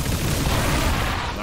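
Dense, continuous gunfire from a squad battle in the video game XCOM 2, a loud, rumbling barrage of shots and booms that fills the whole moment with no clear gaps.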